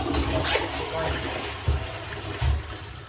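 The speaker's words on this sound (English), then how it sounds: "And flush." A toilet cistern flushes after a repair, giving a continuous rushing of water with low thumps and gurgles, fairly close, while a person speaks over it.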